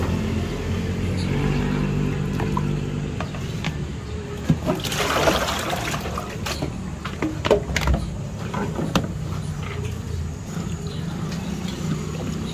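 Moringa leaves are rinsed in water, with splashing, sloshing and dripping from handling in a basin against a steady background hum and occasional clatter, a voice speaking now and then.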